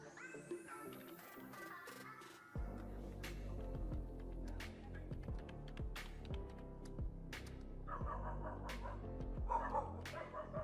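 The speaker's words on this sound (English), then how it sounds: "That's not my dog." A dog barks repeatedly in a video played back on a computer screen, the yips and barks sounding slightly boxy and mixed with background music or other playback sound.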